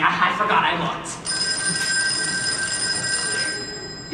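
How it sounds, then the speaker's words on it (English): An electronic telephone rings on a school theater stage, a sustained shrill tone that starts after a moment and carries steadily to the end, with actors speaking over it at first. "That's the phone"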